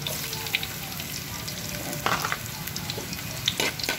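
Chopped garlic hitting hot oil in a pan that already holds ginger, part of cooking batsoy or miswa soup: a steady, close crackling sizzle with stirring scrapes and a few louder spits toward the end.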